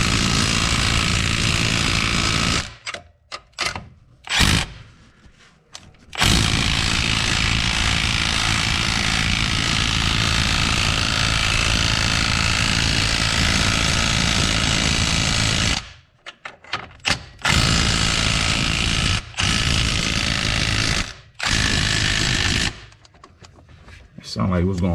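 A power tool torques down a front strut during a strut replacement, firing in long, very loud rattling bursts separated by short pauses, with a voice heard in a gap.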